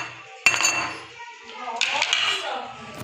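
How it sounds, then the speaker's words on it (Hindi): Spoon clinking and scraping in a bowl while tikka masala, garlic paste and red chili are mixed into chicken marinade, two sharp clatters with softer stirring between, up close. "इसे हम अच्छे से करेंगे मिक्स।"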